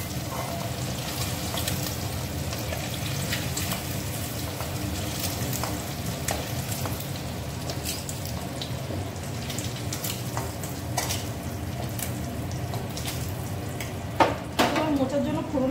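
Potatoes frying in hot oil with whole cumin, dried chili and bay leaf, a steady close sizzle with occasional stirring scrapes and a sharper clatter near the end.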